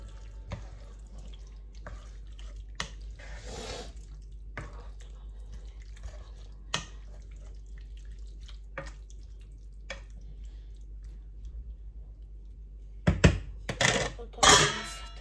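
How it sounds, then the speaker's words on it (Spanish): Liver being stirred with a little water in a pan, with sparse light clinks and scrapes of a utensil against the pan over a quiet background, and a cluster of louder clatters toward the end. "Removemos"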